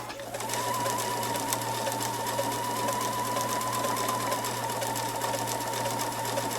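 A sewing machine runs steadily, stitching a row of decorative cable stitches for machine smocking, a continuous close mechanical whir with a faint rhythmic hum that holds evenly throughout.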